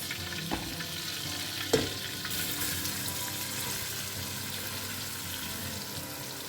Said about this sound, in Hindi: तो अब इसमें डालते हैं बारीक चॉप किया हुआ प्याज।